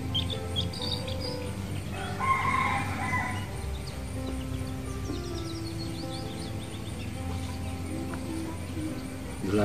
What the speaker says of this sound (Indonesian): Ini ayam saya